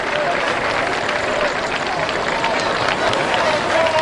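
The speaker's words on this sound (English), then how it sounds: "Gets a nice round of applause from the crowd on hand here at Memorial Stadium tonight" A football crowd at Memorial Stadium, during a Bakersfield College vs. El Camino night game, applauds an injured player being carried off the field, a steady, broad wash of clapping across the stands.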